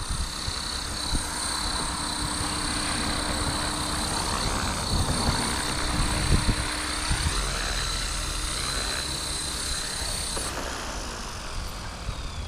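Blade Fusion 360 RC helicopter on a test flight after repair, its rotor and motor giving off a steady, loud high-pitched whine and buzz that keeps on throughout with small swells in level, nearby and with no talking.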